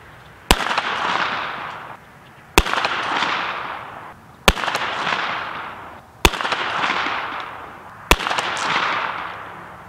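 A Noveske Space Invader 9mm with an 8.5-inch barrel fires 124-grain rounds in five loud, sharp shots about two seconds apart, each followed by a long decaying outdoor echo.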